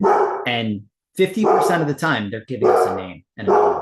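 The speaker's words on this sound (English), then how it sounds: "Sorry about the dog barking." A dog barks repeatedly in the background while a person talks over it.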